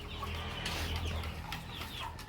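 Chickens in a backyard coop cluck close by in a steady, busy chorus of overlapping calls over a low background hum, with no talk.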